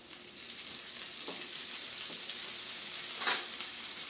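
Garlic added to a hot pan for a breakfast tater tot casserole, a soft steady sizzle with light stirring and a brief scrape near the end, no voices.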